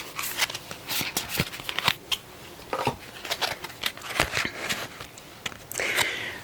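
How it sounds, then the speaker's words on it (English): Tarot cards shuffled by hand close to the mic, a steady run of soft riffling flicks and papery slides with brief pauses. "mix these cards up a bit"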